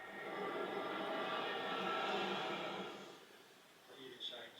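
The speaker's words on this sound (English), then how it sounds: "you'll have heard some aeroplanes in the background" An aeroplane passes overhead in the background, a broad steady roar that fades after a few seconds before faint indoor sounds take over.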